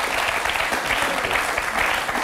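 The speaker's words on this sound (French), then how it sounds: "Des applaudissements." Audience applause in a talk-show studio, loud dense clapping with some cheering, continuous across the whole moment.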